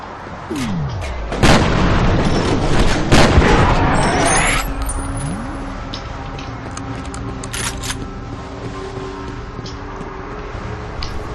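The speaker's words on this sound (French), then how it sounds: "Ça tire dans tous les sens." Heavy gunfire and booming explosions erupt from several directions in the video game F.E.A.R., loud overlapping shots and blasts through the first few seconds, then thinning into scattered distant reports over a lingering rumble.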